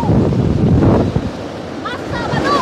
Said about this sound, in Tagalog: Ito po ang bagasbas! Opo, dagat po, karagatan.